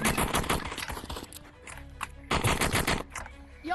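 Rapid gunfire from an Animal Rivals shooter game, loud bursts of repeated shots in two clusters with a short lull between, mixed with game sounds.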